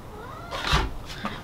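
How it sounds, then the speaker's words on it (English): A feral cat being chased indoors by a dog gives a loud, harsh yowling cry, followed by a shorter second wail, close by with no talk. "Sorry, my dog is chasing the cat now."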